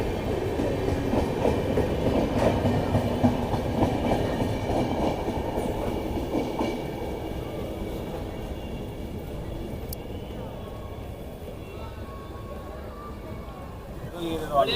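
Jannayak Express pulling out of Laksar Junction, a steady low rumble with faint rhythmic wheel clatter that slowly fades over about fifteen seconds, heard from the platform with people talking nearby.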